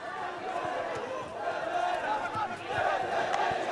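A school rugby crowd at a Bishops versus Rondebosch match roars and cheers for a handoff, a sustained swelling crowd noise with shouting voices that builds toward the end.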